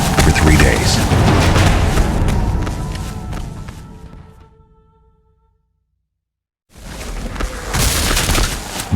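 Battle gunfire from Buford's Union cavalrymen firing on Confederate troops at Gettysburg, a loud rolling fusillade of booms that fades into a few seconds of silence, then heavy firing resumes.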